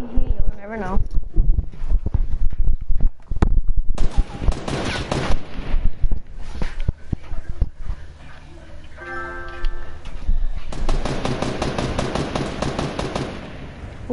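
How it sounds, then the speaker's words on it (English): Rapid bursts of gunfire crackle amid game sounds and talking, with a fast ticking rhythm near the end. "I hear the gunshots, you're next to me."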